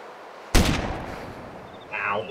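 A single sharp gunshot cracks out in the DayZ survival video game, loud and close, then fades into a brief echoing tail.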